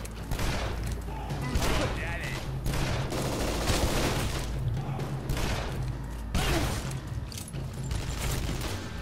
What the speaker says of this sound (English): Are you shooting me, bro?